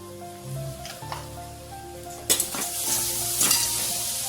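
Kurdai with onion being dropped into hot oil in a pan and stirred with salt, a steady close sizzle with scraping spoon strokes and a few sharp clinks.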